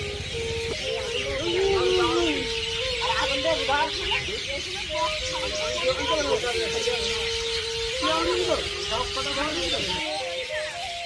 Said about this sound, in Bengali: এই পাখিদের কলকাকলি থেকে